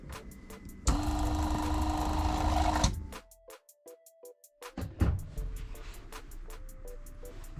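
The water pump in a Jayco 224 BH camper runs with a loud buzzing hum for about two seconds and then drops away, followed by quieter intermittent clicks and short mechanical pulses as the system settles.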